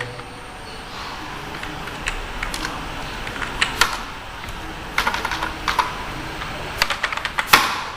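Irregular bursts of keystrokes on a computer keyboard as a form is filled in, with sharp clicks clustering in quick runs, close and moderately loud over a quiet room hum.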